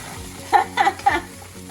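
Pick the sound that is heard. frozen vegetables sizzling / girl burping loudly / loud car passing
frozen vegetables sizzling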